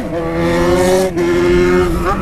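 A motorcycle engine revs hard and close, holding a loud, steady high-pitched whine that dips briefly midway before climbing again, with no voices over it.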